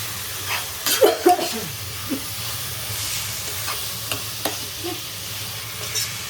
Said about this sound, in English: You have to stir it.